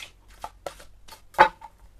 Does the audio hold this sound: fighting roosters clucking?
no